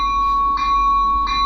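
A model train locomotive's electronic bell rings in loud, repeated strokes at a steady pace over a constant hum, close and alone.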